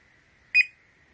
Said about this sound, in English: press it again and hold it until you hear a beep sound